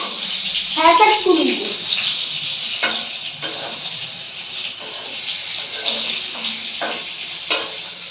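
Water steadily pours and splashes onto growing coriander plants, a continuous close hiss of flowing water with a few louder splashes, while a voice speaks briefly near the start.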